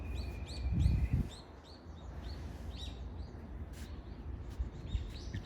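A hawk calls from behind a stand of trees on a hillside hike near Tenjin Mountain Park in Sasebo, Japan, giving repeated thin, high chirping cries that sound distant and faint over a low outdoor rumble.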